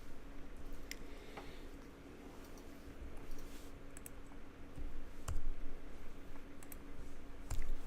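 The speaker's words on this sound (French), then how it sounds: "vous allez utiliser la flèche sur le clavier" Arrow keys on a computer keyboard are pressed during work in InDesign, giving sparse, sharp clicks scattered across a low steady hum, each tap close and fairly faint.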